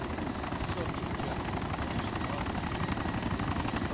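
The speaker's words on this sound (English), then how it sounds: "I can't hear you with this fucking helicopter" Mi-24 attack helicopter in ArmA 2 Wasteland, a steady, loud rotor and turbine roar filling the whole stretch, with voices barely breaking through underneath.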